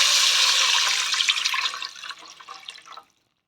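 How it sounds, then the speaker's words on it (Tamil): Tamarind water is poured into coconut milk for a rice dish, a close, steady splashing pour that thins to a trickle and stops after about three seconds. "இந்த தேங்காய் பாலில் புளி கரைச்சி வச்சுருக்கிறேன்னா அந்த தண்ணியை ஊற்றுறேன்."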